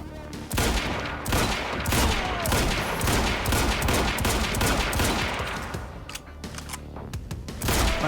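Dense rifle fire in the video game Quantum Break, rapid overlapping shots and bursts rattling almost continuously, loud and close, with a short lull before firing resumes.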